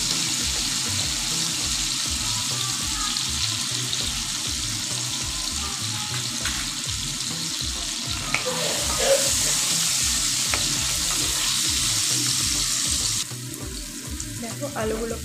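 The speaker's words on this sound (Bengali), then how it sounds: "আলুগুলোকে ভালোভাবে ভেজে নেব।" Potatoes seasoned with turmeric and salt fry in a pan, giving a steady, close sizzle with soft stirring and scraping throughout, and no one speaking.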